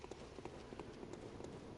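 Quick, regular thumping footsteps of an enemy running toward the player in Bloodborne, faint and slightly distant, a steady galloping rhythm without speech.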